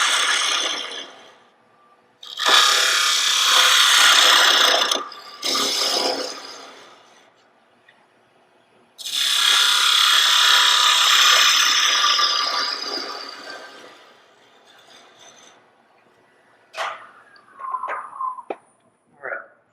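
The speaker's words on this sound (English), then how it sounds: "End grain hollowing, not the easiest or funnest thing to do." End-grain wood hollowing on a lathe: loud, broad bursts of tool cutting with a hissing rasp, two long cuts separated by quiet gaps, then short scraping touches near the end.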